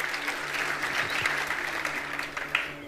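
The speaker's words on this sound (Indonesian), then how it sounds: "Kita beri tepuk tangan." A church congregation at a worship service applauds, with a steady wash of clapping from many hands over a low hum in the room.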